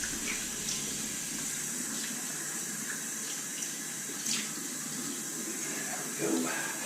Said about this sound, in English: I'm going to wet my face and start building the lather.